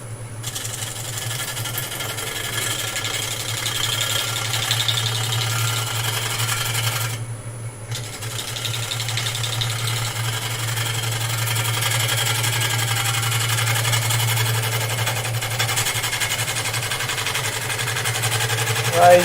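Wood lathe spinning a piece of wood while a gouge cuts it lightly, a steady low motor hum under a continuous scratchy rasping, close and moderately loud, briefly easing near the middle.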